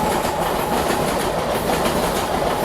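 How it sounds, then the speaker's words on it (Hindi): Steady rhythmic clatter of train wheels rolling over rail joints on a Mumbai railway line, loud and close, a continuous rumble with no voices. "ट्रैक साउंड देखो भाई, ट्रैक साउंड कितने बढ़िया है।"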